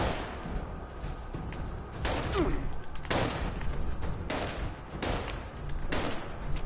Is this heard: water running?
no